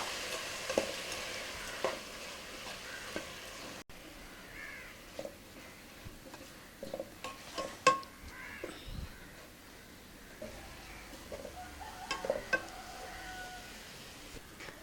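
Jaggery syrup poured and stirred into a pan of cooking poha and date payasam, giving scattered soft scrapes, clinks and faint sizzling from close by, with no talk.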